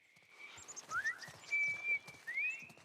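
A person whistles in The Last of Us Part I, a few short rising and sliding tones and one held note over quiet game ambience.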